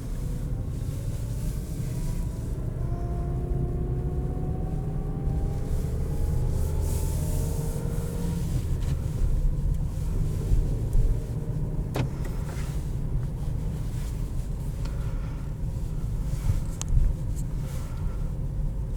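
Gear whine from the manual gearbox of a 2021 Nissan Versa S while driving, a thin rising tone over steady engine and road rumble inside the cabin, continuous and moderately loud with no talking.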